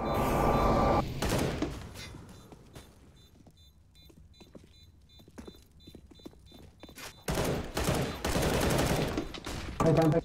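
Rapid bursts of CS:GO gunfire on the Anubis map open and close the moment, loud and dense, with a quieter stretch of scattered clicks and footsteps between them.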